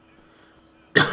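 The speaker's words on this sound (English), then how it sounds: "And I'm gonna cough again." After a quiet stretch with a faint background hum, a person gives a single sharp, loud cough close to the microphone.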